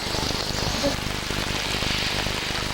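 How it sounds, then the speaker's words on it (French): Steady rain falling in a village in the Dogon country of Mali, a broad continuous hiss of drops on surfaces that stays even and fairly close throughout, with no other clear sound standing out. "Voilà, il pleut."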